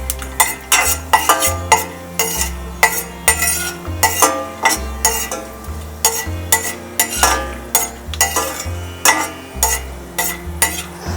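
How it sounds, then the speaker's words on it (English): Pistachios and chironji seeds tossed in melted ghee in a metal pan, with repeated rhythmic scraping and clinking of a spoon against the pan over a soft sizzle, accompanied by steady background music. "now we'll add our pistachios. Just we'll give it a light toss."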